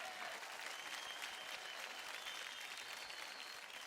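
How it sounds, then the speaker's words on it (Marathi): An audience applauds a dancer on a Marathi TV dance show, sustained thick clapping from a studio crowd with faint cheering mixed in, steady and fairly distant. "जोरदार टाळ्या होऊन जाऊ द्या सुमेध साठी"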